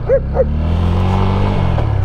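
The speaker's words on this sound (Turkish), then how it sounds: "Evet bir tane köpeğimiz geldi. Evet bakalım. Havlama ya." Near a 200 cc touring motorcycle on a rural road, a dog gives two quick sharp barks close by, then a steady low engine rumble carries on underneath.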